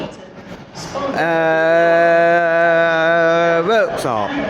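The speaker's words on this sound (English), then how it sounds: "Incoming now we see a terminating East Midlands Railway service from" A terminating East Midlands Railway service pulls into Nottingham station, giving a loud, steady tonal drone that holds for about two and a half seconds and then bends away, with a voice speaking briefly around it.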